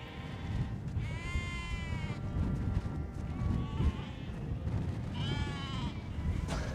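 Flock of sheep and lambs bleating in a pen on Kerguelen, several animals calling in overlapping wavering cries over a steady shuffling, trampling background at close range.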